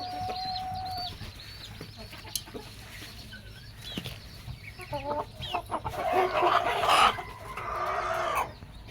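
Moulting backyard hens cluck and murmur close by in a flock of about 25, with scattered calls, a short burst of wing flapping and a louder squawking flurry near the end.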